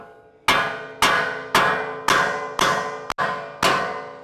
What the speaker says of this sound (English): Go ahead and take your hammer, and you'll watch this right here.